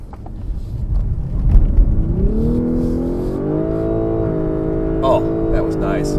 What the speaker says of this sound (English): I don't know if you can hear that, but that's a high-pitched electronic CVT.